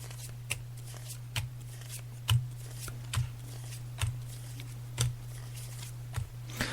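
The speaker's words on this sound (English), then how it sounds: "I'm just laying out the cards now." A psychic lays out tarot cards on a table, making soft, sharp card snaps and slaps at irregular intervals over a steady low hum, fairly quiet with no talking.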